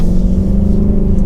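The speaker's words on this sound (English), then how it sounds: "we're just in normal exhaust mode right now. This thing sounds so good." A new Ford Mustang GT coupe engine in normal exhaust mode gives a steady, deep, close rumbling drone, with no talking over it.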